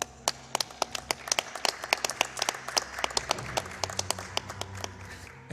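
Scattered applause at a live speedrunning marathon event during a Resident Evil Code: Veronica run, a spatter of quick claps over quiet game sound.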